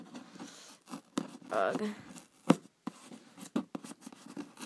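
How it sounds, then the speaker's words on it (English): Hands work at a taped Amazon Prime package, with scraping, tape crinkling and short tearing rips in uneven bursts close by, along with a grunt of effort. "So let's attempt to open this up."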